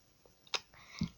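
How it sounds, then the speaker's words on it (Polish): A dog chewing and smacking close to the microphone, a few brief wet mouth clicks and a soft crunch over a quiet indoor background. "przepraszam, że możecie słyszeć mlaskanie, ale to po prostu mój piesek Maja"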